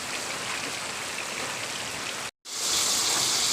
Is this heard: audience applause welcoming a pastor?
no